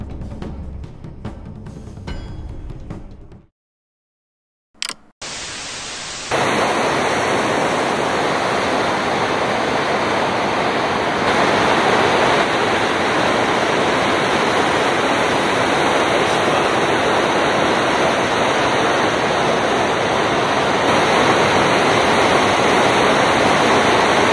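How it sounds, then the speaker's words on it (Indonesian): Huge ocean waves break in a surfing scene, a loud, continuous, rushing roar of surf that begins after a few seconds of other sound and a short silent gap, then holds steady to the end. "peselancar profesional sedang menaklukkan ombak terbesar di dunia"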